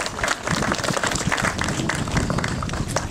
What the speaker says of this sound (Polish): Brawa dla nich również.